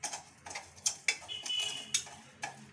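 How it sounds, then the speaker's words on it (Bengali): A spoon stirs two spoonfuls of sugar into two cups of tea, clinking against the cup in close, irregular metallic taps with short scraping strokes between them. "এবার চিনি দিয়ে নাড়াচাড়া করছি দেখো বন্ধুরা"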